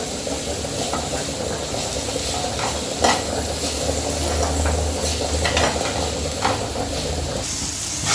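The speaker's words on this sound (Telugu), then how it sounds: "వెల్లుల్లి జీలకర్ర పుదీనా కొత్తిమీర ఇవన్నీ వేసి మనం ఇట్లా ఫ్రై చేసుకుంటే మంచిగా టేస్ట్ వస్తుంది" Garlic, cumin, mint leaves and coriander fry in a pan with a steady sizzle, broken by a few sharp stirring clinks and scrapes, close by with no voices.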